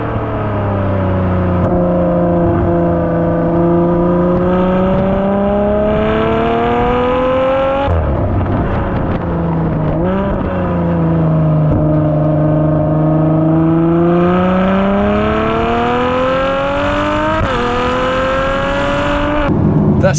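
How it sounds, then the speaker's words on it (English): A Ferrari engine revs hard under load, pitch rising and falling through gears, with quick throttle blips on the downshifts around the middle and near the end, loud and close throughout. "listen, blipping on the downshifts, making me sound like a much better driver than I really am"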